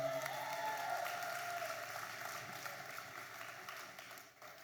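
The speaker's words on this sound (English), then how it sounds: "Give her another big round of applause" Steady applause from an audience at a university masked ball, a continuous wash of clapping that slowly fades near the end.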